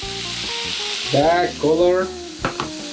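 Vegan kimchi fried rice ingredients sizzle in hot frying oil, with loud hissing bursts as the pan is stirred and a couple of clinks near the end.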